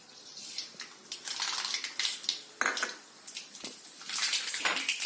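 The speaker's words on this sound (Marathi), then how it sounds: "आता ही मोहरी आहे, आपण 1 चम्मच मोहरी टाकूया।" A spoonful of mustard seeds hits hot oil in a pan, giving bursts of sharp crackling and spattering that come in uneven clusters, near and fairly loud, with no talk.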